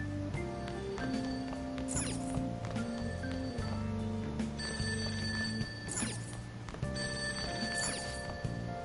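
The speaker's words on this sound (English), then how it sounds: "That ringing sound isn't coming from my cell phone." A telephone rings downstairs with repeated bell bursts in a rhythmic pattern, muffled and moderately loud, over a busy background with other tonal sounds.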